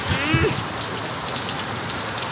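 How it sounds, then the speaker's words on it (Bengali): Steady rain falls outdoors after a spell of hot weather, a continuous close patter of drops on surfaces throughout, with a brief faint voice-like sound near the start. "এত গরমের মধ্যে এখন বৃষ্টি হয়েছে, অনেকক্ষণ থেকে শুরু হয়েছে।"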